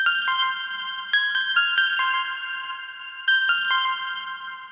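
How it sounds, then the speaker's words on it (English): A bright synth pluck melody in FL Studio processed through the Portal effect plugin, notes ringing out with shimmering, spacious echoes and long tails, heard alone without talk. "And then I turn portal on and it sounds like this"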